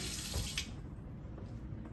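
A faucet runs steadily, a constant rushing stream of water close by, with no other sounds.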